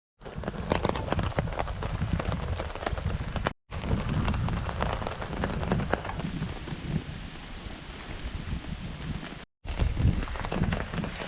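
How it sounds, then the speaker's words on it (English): Rain falling steadily around a campsite in the Algonquin wilderness, a dense patter of drops on surfaces that stays fairly close and even, broken by two brief silences, with no talking. "Still quite rainy outside."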